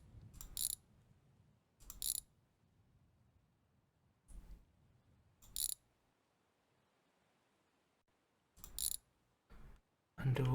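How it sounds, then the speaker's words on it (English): A ratchet clicks in several separate bursts as bolts are undone on a car engine in a home garage, each rapid run of ratcheting loud and close, with quiet pauses between. "Undo all these bolts."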